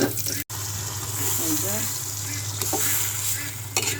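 Tempering (bagar) of oil and onion sizzles steadily in a pan of milky taro greens, a dense continuous hiss with occasional stirring scrapes.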